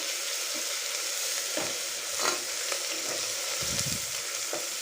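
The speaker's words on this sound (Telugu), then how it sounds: "ఇప్పుడు 1/2 teaspoon పసుపు, 1 స్పూన్ అల్లం వెల్లిగడ్డ వేసి బాగా కలుపుకోవాలి" Fried onions sizzle steadily in a pan while turmeric and ginger-garlic paste are stirred in for a beans curry, with a continuous hiss broken by a few soft scraping stirs and spoon knocks.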